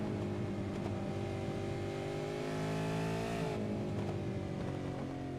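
V8 race car at the Suzuka circuit, its engine screaming at high revs as it climbs and holds, then drops off briefly before pulling again, loud and steady with no talk.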